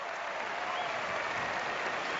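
Crowd at a 2005 Hong Kong women's tennis semifinal applauds a rally point, a steady, distant wash of clapping across the arena, even and continuous without individual claps standing out.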